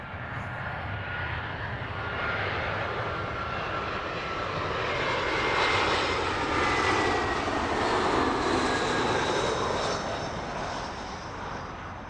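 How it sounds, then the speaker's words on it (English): Airbus A350 jet arriving at Heathrow, a loud steady engine roar that swells as it passes nearby and then slowly eases, heard alone without talk. "right at the back of the stack there, another A350"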